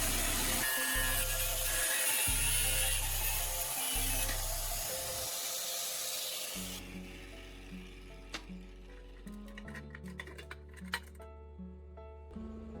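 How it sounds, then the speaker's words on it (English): An angle grinder cuts off a protruding bolt head, giving a loud, harsh grinding whine with choppy low pulses for about seven seconds. The cut then stops and quieter metallic clinks and rattles follow. "I will cut the protruding head of the bolt exactly to the appropriate length with an angle grinder."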